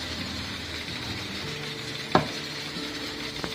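Steady sizzling of a spinach tempering in hot desi ghee for Lahori hareesa, a continuous frying hiss with one sharp clatter midway and a smaller knock near the end.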